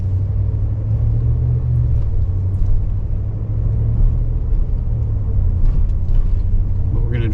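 Car cruising through a residential neighbourhood of old homes in Bangor, Maine, with a steady low engine and road rumble heard from inside the cabin, continuous and fairly loud throughout.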